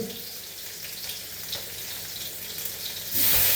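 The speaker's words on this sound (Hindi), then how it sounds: "ये टमाटर मैं इसमें डाल रहा हूँ, टमाटर।" Tomatoes sizzle steadily in a hot pan for a stuffed paratha dish, a close continuous frying hiss that grows louder near the end.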